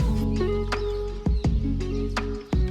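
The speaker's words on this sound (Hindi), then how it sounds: "और ये देखिए चिड़िया कैसी चहचहा रही हैं।" Morning birds chirping in an Indian village, with short bright tweets and calls over a steady low hum, punctuated by a few sharp knocks and clicks nearby.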